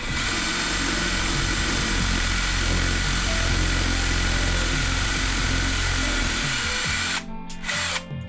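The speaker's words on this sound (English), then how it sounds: "reverse drilling preserves the finish at the hole" A power drill reverse-drills holes in a guitar body, whirring loudly and steadily at close range for several seconds, then cuts out, followed by brief softer bursts.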